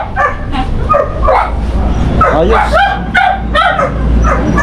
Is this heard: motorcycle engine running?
no